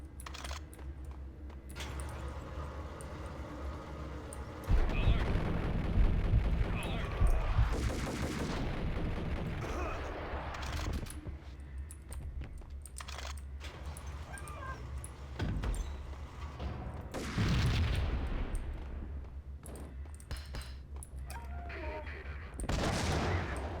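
Gunfire from the player's gun in the shooter Max Payne, scattered sharp shots and bursts among rapid clicking of a keyboard, with occasional talking.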